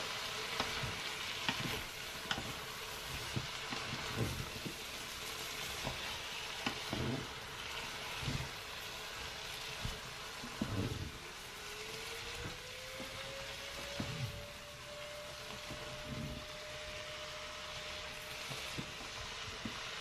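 Ingredients for a cabbage potée browning in a Cookeo multicooker pot, a steady close sizzle and crackle with intermittent scraping stirs, a soft electronic tone rising midway and holding.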